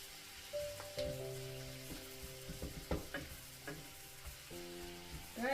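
Crushed garlic stirred and frying in a pan for a healthy chicken wrap, a steady soft sizzle with scraping utensil strokes against the pan at intervals, close by and without talk.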